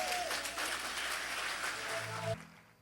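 Congregation applause at a Christian healing service, a loud, full burst of clapping that cuts off sharply near the end and leaves a quieter tail.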